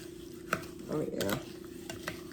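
A wooden spoon stirs a caramelizing peach cobbler mixture in a pan, giving soft scraping strokes and a few light clicks against the pan.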